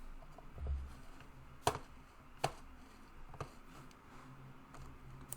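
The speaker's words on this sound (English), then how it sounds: "I'm just typing the example" Soft typing on a computer keyboard in a quiet room, a handful of sparse key clicks spaced irregularly with a couple of sharper taps standing out, close but faint.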